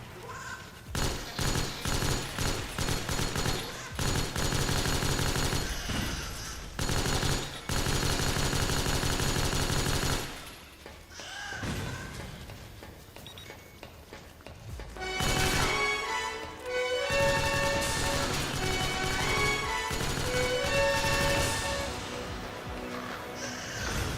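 Gunfire in Metal Gear Solid 4 at Shadow Moses, dense bursts of rapid shots and fusillades, loud and close, with brief lulls and shifting in-game effects between volleys.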